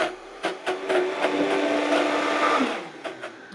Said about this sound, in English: I'm going to turn this on and add the olive oil in as I am blending it